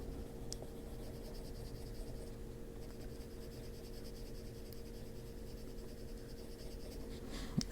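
Colored pencil scratching on paper during adult coloring, a soft continuous scratchy rasp of strokes at close range, faint and steady, with no talking.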